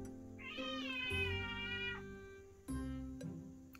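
A house cat meows insistently to be let outside, giving two long, close, drawn-out cries with a short gap between them, heard alone with no talk.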